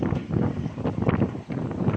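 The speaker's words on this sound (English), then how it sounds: "It's quite windy today." Wind buffets a phone microphone outdoors, a steady loud rumbling roar with gusty swells and a brief dip, no speech audible.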